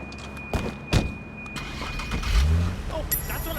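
A car engine starts up in the Sleeping Dogs video game, a brief low rumble rising under the background game audio and a voice.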